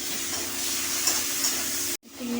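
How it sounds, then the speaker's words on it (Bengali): Salt-and-turmeric-coated prawns frying in a little mustard oil, a close, even hissing sizzle that holds steady for about two seconds, cuts off briefly, then resumes. "এই চিংড়ি মাছটা আমি নুন হলুদ মাখিয়ে একটু ভেজে নিলাম।"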